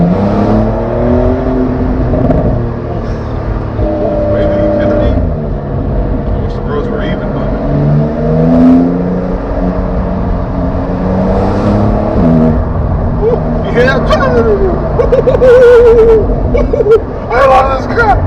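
A Porsche 911 engine builds revs through winding cliffside turns, its drone rising and falling in pitch as the car accelerates, heard from inside the cabin with the driver talking excitedly over it throughout.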